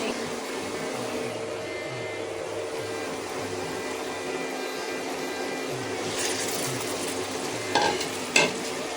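Ground stinging nettle vegetable is stirred in a frying pan, giving a low continuous sizzle with soft scraping and a couple of sharper clinks near the end.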